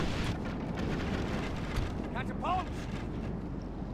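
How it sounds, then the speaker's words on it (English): Catapults firing during a Total War battle, a constant rumbling battlefield din with dull thuds and a few faint whistling cries, while someone talks over it. "Yes, go, catapults,"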